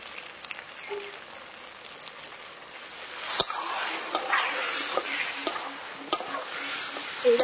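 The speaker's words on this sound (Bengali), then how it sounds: "এইবার সব কিছুর সাথে ভালো করে কষিয়ে নিতে হবে" Spices sizzle and hiss in a pan while being sautéed for a Bengali fish curry with figs and bitter gourd, faint and crackly, with occasional knocks of a spoon stirring.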